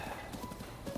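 Horse hooves clip-clop steadily in Breath of the Wild, a quick regular rhythm of hoofbeats at moderate loudness with soft game ambience underneath and no talking.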